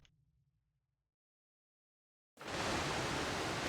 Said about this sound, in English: You want to hear that waterfall over there?